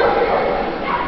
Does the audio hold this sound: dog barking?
yes